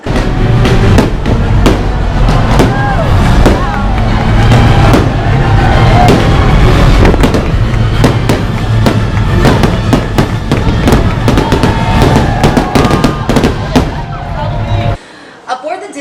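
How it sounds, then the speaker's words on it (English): Fireworks launch from a Disney cruise ship in a loud, dense barrage of rapid cracks and booming bursts that continues for many seconds before cutting off near the end. "They actually have fireworks not only on the ship, shooting off directly from the ship that you're on"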